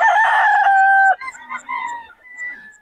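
A gamecock rooster crows loudly close by at a Bocaue Day event, followed by softer clucking and a few faint chirps in the background.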